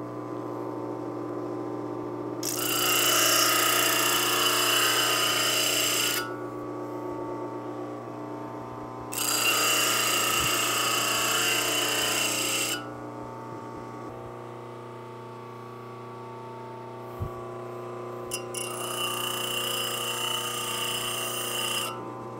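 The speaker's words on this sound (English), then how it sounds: "I need to rough up the tang and also the mating surface of the handle scales." Power tool roughing up a Damascus knife tang and handle scales, heard as three loud, close bursts of abrasive whirring grind, each a few seconds long, over a steady electrical hum, with no talk.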